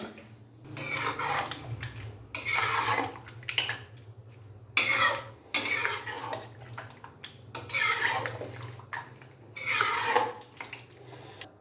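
Mutton butt karahi with ground black pepper and dry coriander powder being stirred in a pan, a ladle scraping and clinking against the metal in repeated bursts over a steady low burner hum, with no talking.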